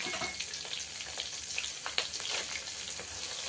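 About ten dry red chillies fry in hot oil for lemon rice made with basmati, giving a steady, close crackling sizzle with small irregular pops.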